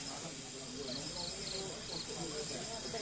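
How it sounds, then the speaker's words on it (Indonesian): Crickets chirping steadily at night at a cool mountain campground near Bogor, about 1000 m up, a continuous high trill over a dense hiss of insects and ambient night noise. "tetap aja suara jangkrik yang memecah hening di malam hari"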